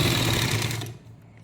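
Sewing machine running a steady, fast stitch on a lining salwar, close and fairly loud, then stopping about two thirds through so only a quieter tail remains.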